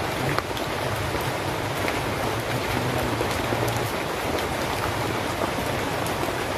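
Heavy rain pours down steadily in a dense, even hiss, with a wet spattering of drops on surfaces that holds unbroken throughout, with no voices heard.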